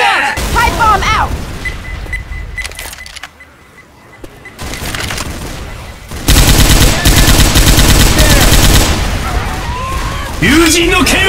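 Rapid automatic gunfire and pipe bomb blasts from the zombie shooter Left 4 Dead 2, dense and loud throughout with a brief lull, while game character voices shout over the fighting.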